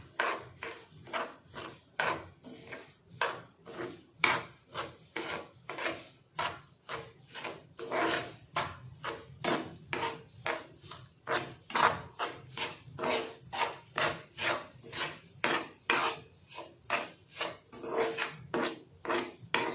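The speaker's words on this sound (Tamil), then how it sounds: "ரவையை ஒரு 10 to 12 நிமிஷம் சிம்மில் வச்சு வறுத்து எடுத்துக்குங்க" Semolina (rava) roasts in ghee in a pan while a spoon scrapes and stirs it in a steady back-and-forth rhythm, giving close, regular raspy strokes with no talking.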